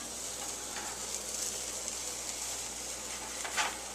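French toast frying in a skillet, a steady, soft, close sizzle with faint crackles running throughout and no talk.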